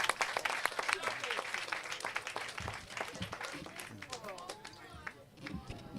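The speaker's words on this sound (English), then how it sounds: "Clap her again, clap her again." A crowd claps at a public Wi-Fi launch ceremony in St. Ann's Bay, brisk scattered applause that thins out toward the end, with voices talking over it.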